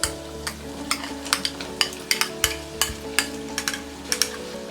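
Vegetables (potato, French beans, carrot and cauliflower) being stirred in a pan, with repeated scraping strokes of a spoon against the metal in an uneven rhythm over a low background sizzle, close and clear with no talk.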